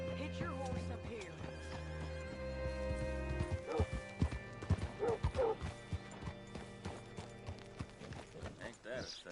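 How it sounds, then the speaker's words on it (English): In the Red Dead Redemption 2 video game, a horse's hooves clip-clop in an uneven rhythm under game music, with a brief whinny and some nearby talk in between. "Hitch your horse up here."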